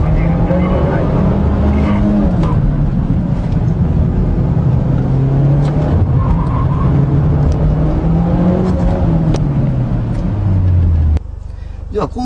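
A Mitsubishi Lancer Evolution X engine revs hard and close, its pitch climbing and dipping through gears as it accelerates into a corner with stability control on, then drops off abruptly at the end.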